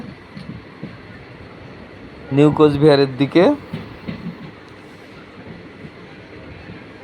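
Low, steady rumble of a train rolling along the track between Cooch Behar and New Cooch Behar Junction, with a person speaking briefly partway through over the running noise.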